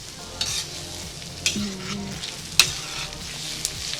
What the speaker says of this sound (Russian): Поджарился наш лучок.